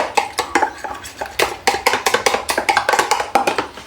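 Eggs whisked with curry powder in a bowl make a fast, steady run of loud, close metallic clinks and taps of utensil against the bowl, with no talk.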